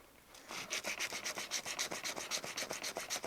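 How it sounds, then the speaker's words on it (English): A rebuilt 1911 pistol frame is sanded with 240-grit paper wrapped on a small wooden block, producing a quick, even series of soft back-and-forth rasping strokes, close and fairly quiet. "I'm using some 240 grit to blend this, smooth it out."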